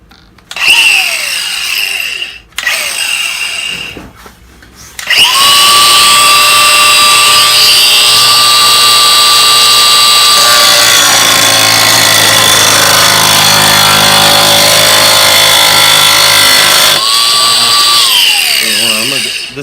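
A battery power drill bores 1 1/8 inch holes through wood in a shop while a wood vise is being installed, whining loud and steady for several seconds, with brief shorter bursts before and after and a voice speaking early on.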